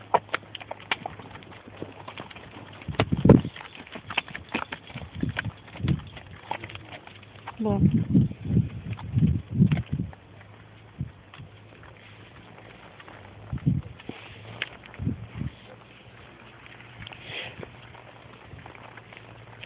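Hooves of a ridden horse clop on the ground outdoors in Battery. The steps are irregular and fairly close, sometimes louder in short runs, and people talk over them now and then.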